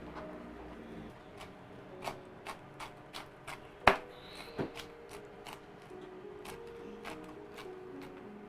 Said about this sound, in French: Là, nous sommes capables de hacher.